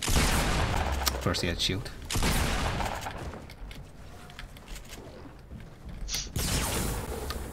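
Shotgun blasts in a Fortnite Battle Royale match, several loud bursts spread across the stretch with a quieter gap in the middle, heard under a player's commentary.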